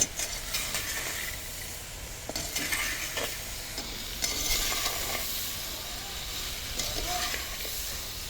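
Mango, bottle gourd and turkey berry chutney frying in a pan sizzles steadily as garlic goes in, with repeated scraping stirs and soft clatter close by, continuing for several seconds.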